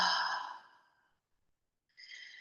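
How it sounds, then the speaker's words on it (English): An open-mouthed exhale during an EFT tapping exercise: a long breathy sigh that fades out over about a second, then a short quieter breath a moment later, close and clear with no talking. "Open mouth, exhale."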